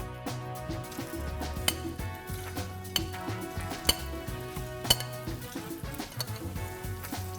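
Small spicy Moroccan mushroom meatballs fry in oil with a soft, steady sizzle, broken by occasional clinks and scrapes of a utensil against the pan, close by and without talk.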